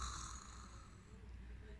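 A storyteller's voice imitates light snoring, a soft steady breathy rasp held through the moment and sounding close and quiet.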